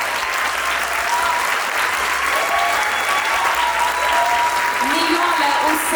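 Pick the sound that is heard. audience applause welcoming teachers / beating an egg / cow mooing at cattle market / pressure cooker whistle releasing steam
audience applause welcoming teachers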